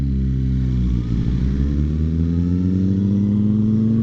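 Motorcycle engine held at a steady, loud rev during tuning, with a strong rising harmonic drone that climbs slightly in pitch over a few seconds, close up and with no one talking.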